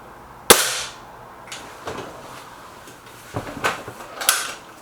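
A Beeman air rifle fires Bisley pellets: one sharp, loud crack followed by several softer mechanical clicks and clunks, likely cocking and loading between shots.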